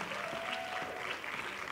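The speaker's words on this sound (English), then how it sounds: "How about a big round of applause for all of our Talbert Scholarship winners" Brief, soft applause from an audience at a school-of-the-arts awards night honoring scholarship winners, a short steady patter of clapping at low level.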